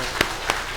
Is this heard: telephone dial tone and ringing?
no